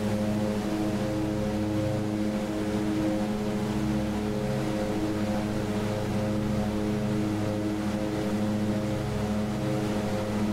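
Twin-engine propeller drone of an Aerosoft Twin Otter cruising near 8,000 feet at reduced throttle in Microsoft Flight Simulator, a steady, loud, harmonic hum that continues without a break and with no talk.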